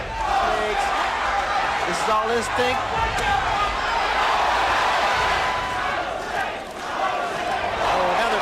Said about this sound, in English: Crowd taking up a chant of Jose.